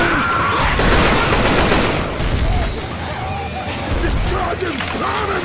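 Chaotic gunfire and bursts in the zombie shooter Left 4 Dead 2, loud overlapping shots and pops mixed with game noise and excited voices talking over it.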